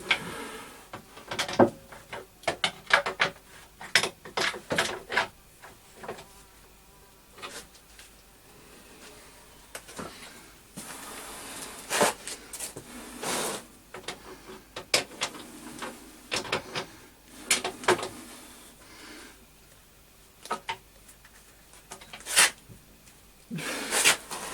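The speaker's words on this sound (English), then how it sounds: "the two bolts at the back need to be tightened up now" Large bolts on the back of a big arbor press are being tightened with a large adjustable wrench, giving scattered metallic clicks, clanks and ratcheting knocks in irregular bursts, fairly close, with quiet gaps between.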